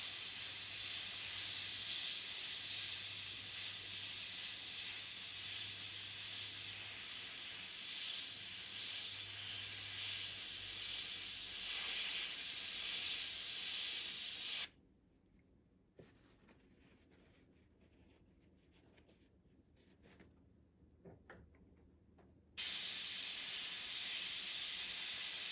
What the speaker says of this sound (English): When we spray that, when I hit it with that blue, you'll see it turn on almost like a neon sign.